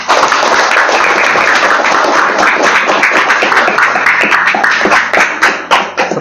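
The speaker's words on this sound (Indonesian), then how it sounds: "Tepuk tangan buat Sabilul Muttaqin." Audience applause at a motivational talk on success and health, a dense, loud, sustained patter of many hands clapping that fades slightly toward the end.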